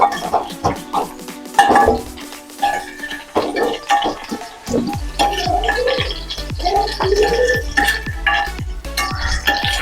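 A spoon scrapes and clinks against a cooking pot while aloo gobi curry of cauliflower and potato is stirred, a rhythmic series of close metallic taps and scrapes over a low background hum.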